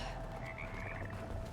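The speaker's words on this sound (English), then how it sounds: "I hear frogs." Frogs croak in the Split Fiction video game, a faint, steady chorus of low rasping calls over a soft ambient background, heard alone for a brief moment.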